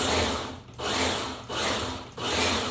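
A food processor chops tomatoes for salsa in steady, loud whirring bursts, about four pulses in a row each separated by a brief dip, with no talking.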